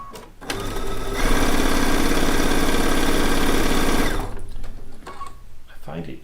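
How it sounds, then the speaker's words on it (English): A home sewing machine stitches a quarter-inch seam while piecing a quilt block, a fast steady mechanical whir running for about three seconds before stopping, followed by a few faint handling clicks. "let's do our 1/4 inch seam"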